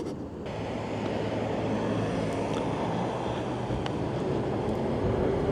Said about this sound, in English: that's a full throttle launch